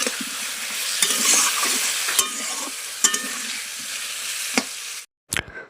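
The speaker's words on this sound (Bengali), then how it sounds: "এখানে তরকারি বসিয়ে দিয়েছি" A vegetable curry sizzles and fries in a pan at home while a utensil stirs it, with sharp scraping knocks at intervals over continuous frying, then a brief pause and one more clatter.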